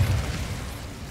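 An Incendio fire spell blast from Hogwarts Legacy, one short, deep, booming burst of flame that fades over about a second.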